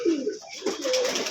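A Rampuri racing pigeon coos softly and close by, a couple of low rolling calls in quick succession with no talking over it.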